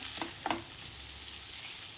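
Arbi (taro root) sizzles with masala spices in a pan, a steady soft crackle with a couple of brief stirring scrapes near the start, quiet and close.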